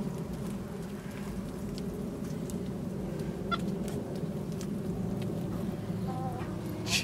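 Chickens cluck and murmur softly over a steady background hum, with a few brief sharper calls standing out now and then.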